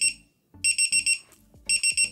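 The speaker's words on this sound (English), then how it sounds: "that scared me. That was the timer." A Divoom Pixoo Max pixel display's timer alarm sounds in loud, shrill beeping bursts, groups of rapid electronic beeps separated by short gaps, with some faint handling noise between them.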